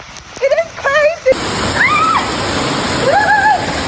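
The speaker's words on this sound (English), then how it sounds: "I was under the roof, but the rain was sideways." Heavy sideways rain pours in a storm, a dense hissing roar that starts abruptly and continues under a person's excited talking.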